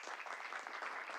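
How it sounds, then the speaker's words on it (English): Brief burst of audience applause at a board meeting, a dense steady wash of many hands clapping for a community member, fairly distant and even in level throughout. "to give him just a quick round of applause."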